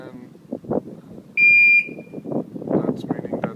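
A Scorpio R Link car alarm lets out one steady, shrill electronic beep lasting about half a second as it switches off. Someone talks before and after the beep.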